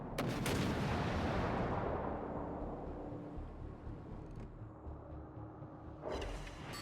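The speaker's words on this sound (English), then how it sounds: "Have you ever seen a salvo so big?" A big warship gun salvo in World of Warships Legends, with the battleships Hsienyang and Hyuga: an overlapping burst of heavy cannon blasts opens loud, rolls into a long fading rumble, then a sharper report sounds near the end.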